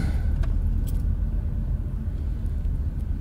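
A car drives through the streets of Sóller, Mallorca, heard from inside as a steady low engine and road rumble, with faint clicks and a light jangle near the start.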